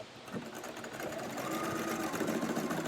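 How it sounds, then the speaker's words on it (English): A sewing machine stitches fabric for a face mask, a steady close mechanical whir that builds slightly in speed over a few seconds. "I'm gonna run it along the inside of my presser foot, and I start sewing."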